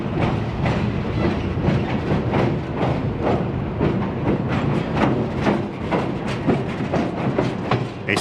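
Mount Hood Railroad train rolling across the 1906 steel truss bridge over the Hood River, a steady run of clickety-clack wheel beats repeating close and loud, no voices.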